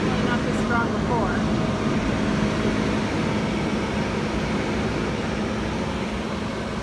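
Rear AC blower motor running on a 2012 Chrysler Town and Country, a steady broadband whoosh of air holding level throughout, with a voice speaking briefly at the start.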